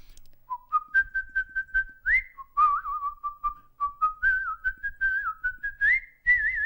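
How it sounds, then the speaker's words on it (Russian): A man performs artistic whistling of a lively melody, alone and close, in clear, pure tones with quick runs, slides and trills. "и я с детства так свистел"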